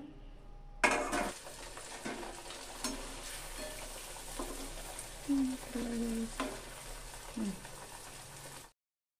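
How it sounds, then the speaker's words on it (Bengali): Sabudana luchi deep-fry in a pan of hot oil with a faint, steady bubbling sizzle. Utensils clink and scrape against the pan a few times, and brief vocal sounds surface before the sound cuts off abruptly near the end. "এভাবে এক এক করে আমি লুচিগুলোকে ভেজে নেব"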